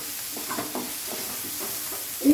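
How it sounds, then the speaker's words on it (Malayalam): Paneer curry masala sautéed on a high flame in an ordinary non-nonstick pan, a steady low sizzle with a few soft stirring scrapes, fairly quiet and close, no talking. "ഹൈ ഫ്ലെയിമിൽ തന്നെ വെച്ച് വഴറ്റുക"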